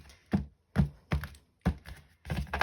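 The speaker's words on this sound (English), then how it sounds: "So let's give these a good shuffle." A deck of tarot cards is shuffled by hand in five crisp, separate bursts of tapping and thudding against a surface, spaced about half a second apart and close by, with no talk.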